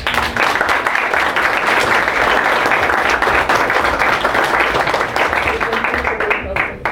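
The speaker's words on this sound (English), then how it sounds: "Can we get a round of applause?" A school peace-conference audience gives a round of applause, dense and loud clapping from many hands that carries on steadily for several seconds before thinning out near the end, with some voices underneath.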